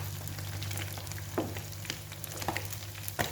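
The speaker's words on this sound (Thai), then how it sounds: "ทอดปลาแดดเดียวไม่ปิดกระทะ" Steady, quiet sizzle of sun-dried salted fish frying in hot oil in an uncovered pan, with occasional pops and crackles over a low constant hum.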